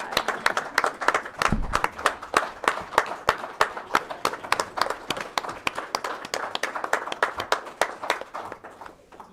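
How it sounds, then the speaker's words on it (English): Applause at a county board of supervisors meeting for young award winners, a sustained patter of many hands clapping in a meeting room, steady and fairly close, with faint voices underneath. "Give them another round of applause."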